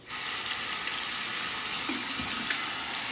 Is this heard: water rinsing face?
yes